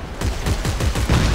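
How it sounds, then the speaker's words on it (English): The line gun in the video game Dead Space 3 fires in a quick string of loud, punchy shots, about six evenly spaced blasts in under two seconds. "I love the line cutter. Wait, line gun."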